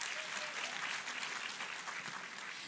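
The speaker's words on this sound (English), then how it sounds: "A big round of applause for FAWE." Guests at a charity fundraising dinner in Uganda applaud, a steady wash of clapping from a crowd, somewhat distant and even throughout.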